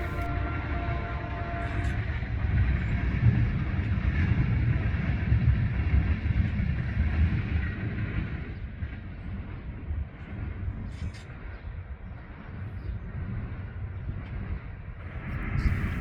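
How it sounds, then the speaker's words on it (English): A CSX freight train at Fostoria makes a broad, moderately loud rumble that swells and then eases slightly. Faint higher clanks and hiss come through, with no speech. "the next CSX train here only came 40 minutes later"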